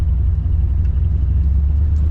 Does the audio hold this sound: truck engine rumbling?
yes